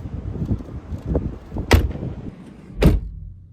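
Two solid car door slams of a 2010 Porsche Panamera 4S, one after the other, loud and close, with quieter handling thuds before them, on a windy day.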